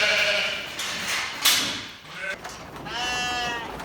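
Sheep and lambs being run down a race on a farm bleat repeatedly over a busy background of shuffling and movement, with one clear wavering bleat standing out near the end.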